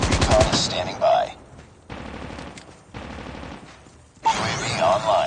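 Call of Duty gunfire on the Nuketown map: bursts of rapid automatic shots at the start and end, separated by quieter gaps with game sounds, loud and close.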